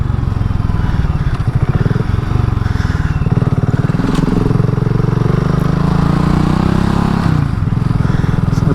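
A 2022 BSA Gold Star motorcycle ridden at slow speed, its engine thumping loud and steady throughout with a busy mechanical chug and no talk.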